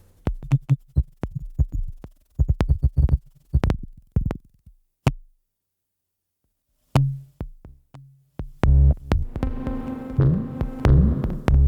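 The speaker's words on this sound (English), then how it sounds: "That is the granular sampler." A granular sampler set to high overlap and low grain density, producing sparse, sharp percussive thumps and clicks in irregular bursts, a silent gap midway, then denser buzzing tonal grains toward the end, with no talking.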